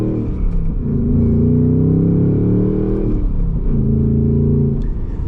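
A 2026 Ford Mustang GT coupe with a V8 and manual gearbox pulls away, its deep engine rumble rising and easing as it revs through the start, loud and close with no talking.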